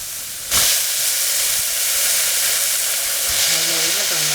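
Finely chopped vegetables and potato saute in a pan for a Tamil soya bean kuzhambu, a loud steady sizzle and hiss that swells at the start and keeps on with faint stirring.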